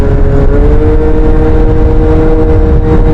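A two-stroke bike engine with a fouled plug is held at a loud, steady high-rev drone that stays close and unbroken throughout.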